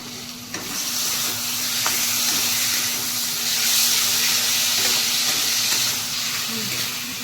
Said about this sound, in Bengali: এবার আমি কষতে থাকবো কষতেই থাকবো আমি কালার হওয়ার জন্য কাশ্মীরের লঙ্কার গুঁড়ো দিয়ে দিচ্ছি